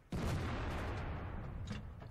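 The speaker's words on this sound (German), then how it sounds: "Oh, unglaublicher Schuss." A single booming cannon blast from an ISU-122S tank destroyer in World of Tanks, sudden and loud, followed by a rumbling echo that slowly fades.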